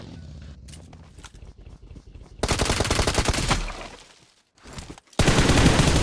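Bursts of automatic gunfire in the mobile battle royale game BGMI, with rapid loud volleys, a brief quiet gap, and footsteps in between.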